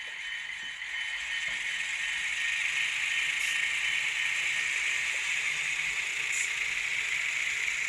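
An N scale Alco FA-1 model diesel locomotive runs with its onboard sound while the throttle advances notches, giving a steady, close mechanical whir and motor drone that builds slightly and holds even.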